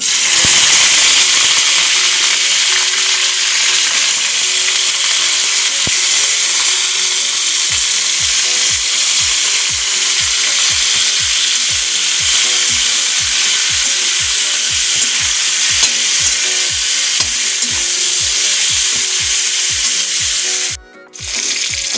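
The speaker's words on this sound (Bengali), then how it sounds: "ফুলকপিগুলোকে আমি ভেজে নেব তেল আমার গরম হয়ে গেছে" Cauliflower florets fry in hot oil with a steady, loud sizzle throughout, joined by a rapid regular ticking or scraping pulse from about eight seconds on, briefly cutting out near the end.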